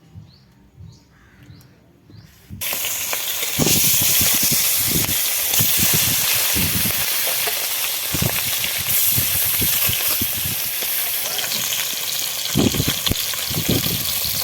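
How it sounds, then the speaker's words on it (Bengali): Mustard oil with turmeric and salt starts sizzling and hissing loudly in a pan after a quiet opening. The spatter holds steady and close, with crackles scattered through it, while a voice speaks briefly at the start. "হলুদ লবণ দিয়ে ভেজে নেব দিয়ে দেবো সর্ষের তেল"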